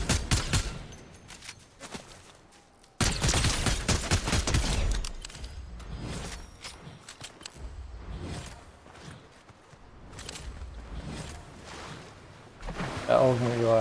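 Video game gunfire in bursts of shots, some rapid and some spaced, loud and close, with a brief heavy volley near the start and people talking over it.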